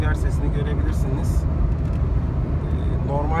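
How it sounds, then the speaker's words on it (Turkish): Steady low road rumble and rushing wind noise fill the cabin of a Citroen C-Elysee or Peugeot 301 moving at speed, with a faint voice now and then. "yol sesini ve rüzgar sesini görebilirsiniz."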